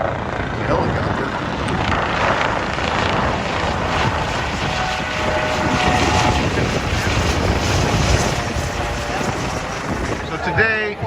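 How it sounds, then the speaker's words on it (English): A helicopter's continuous rotor roar overhead on a windy afternoon in Seville, Spain, loud and steady, mixed with wind noise, without speech. "There's a helicopter."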